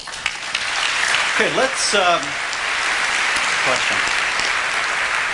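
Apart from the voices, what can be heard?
audience applauding at a debate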